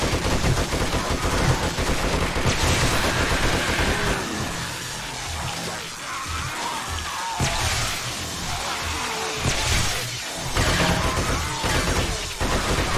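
Dense, loud gunfire against zombies in a survival video game on the County of Maui map, with rapid bursts and overlapping shots that ease slightly midway before intensifying again.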